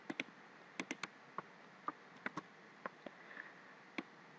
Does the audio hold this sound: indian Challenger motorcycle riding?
no